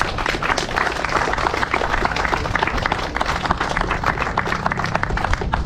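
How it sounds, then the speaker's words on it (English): A crowd at a racing drivers' meeting claps steadily and enthusiastically, a dense continuous applause holding at full strength throughout. "can we give up a big, huge round of applause for our board of directors?"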